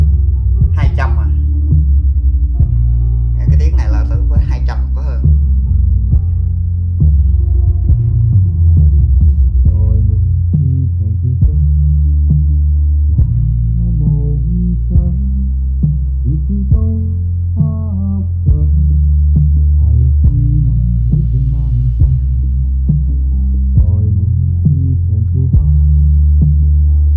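A deep, throbbing low tone from a B&W ASW-750 subwoofer hums steadily throughout, with a few brief higher clicks near the start; no voices are heard.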